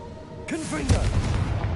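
A Confringo fire spell in Hogwarts Legacy lands as a sudden loud blast with a rumbling tail, preceded by a brief swooping whoosh, all at close range.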